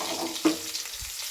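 Unpeeled crushed garlic and curry leaves hit hot oil for a gongura dal tempering, giving a brief, close sizzling hiss with a small splashy burst partway through.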